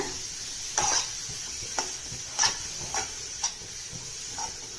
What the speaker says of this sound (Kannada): ತುಪ್ಪದಲ್ಲೇ ಫ್ರೈ ಮಾಡಬೇಕು ಕ್ಯಾರೆಟ್ ತುರಿನ